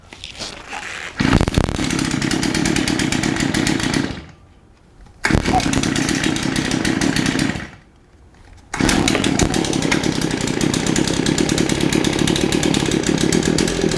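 Shindaiwa AH242 hedge trimmer engine, set on the ground, pulled over on choke and catching, then running loud and steady with two brief drops to near idle before revving back up.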